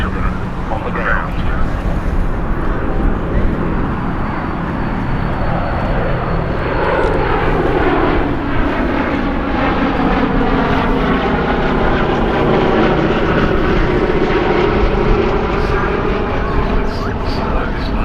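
Boeing B-17 bomber Sally B flying with a Lancaster at the IWM Duxford Battle of Britain airshow, its piston engines and propellers giving a loud, steady drone that shifts in pitch as the aircraft passes, with a commentator's voice over the public address.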